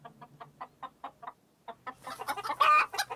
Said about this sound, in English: It's a hen.